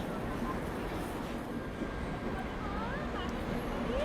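A Duronto Express pulling out of Bhubaneswar station, a low steady rumble of rolling carriages heard from the platform amid faint crowd murmur, with no clear speech.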